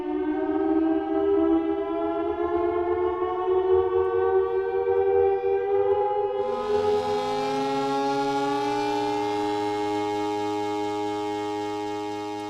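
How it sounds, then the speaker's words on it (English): A military air-raid style siren wails in The Last of Us, a long rising and falling mechanical tone that holds steady for about twelve seconds, joined midway by a second harsher alarm layer before slowly fading. "The military still has technology. There's sirens and alarms"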